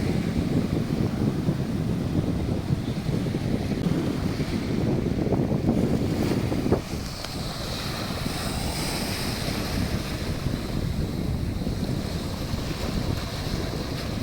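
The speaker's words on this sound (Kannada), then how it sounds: "ಅರಬ್ಬಿ ಸಮುದ್ರ" Arabian Sea surf breaks and washes at Koliyak beach near Bhavnagar, Gujarat: a steady, loud roar of waves mixed with gusty wind buffeting the microphone, easing slightly partway through, with no talking.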